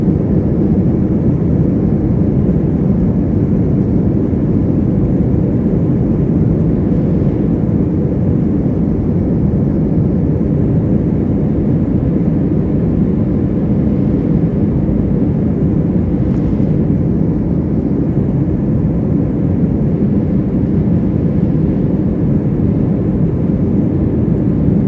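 An American Airlines jet roars steadily during takeoff from Charlotte, a loud, unbroken low rumble heard from inside the cabin with no talking.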